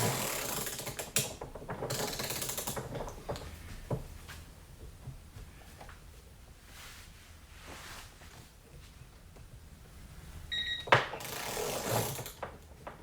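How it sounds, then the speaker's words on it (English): Capri Tools long flex head ratchet clicking in hand, bursts of quick close ratcheting clicks with pauses between them, loud and clear with no talk. "Now we have the long flex head ratchet."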